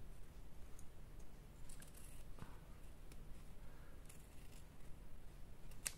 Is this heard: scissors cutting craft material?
yes